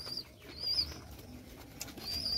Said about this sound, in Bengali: ওইটা আমার লোটন কবুতর, ওইটাকে নাচিয়ে ছেড়ে দিলে ডিগবাজি দেয়।